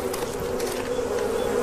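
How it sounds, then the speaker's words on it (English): A dense swarm of angry African bees guarding honey hidden deep in a tree, buzzing loudly and steadily throughout, a thick continuous drone with no voices. "protected by hundreds of angry African bees"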